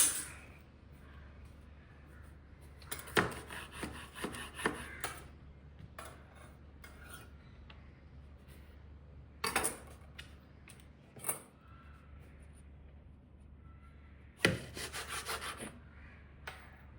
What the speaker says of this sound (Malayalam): ഇനി നമ്മൾ ചിക്കു മുറിക്കുകയാണ്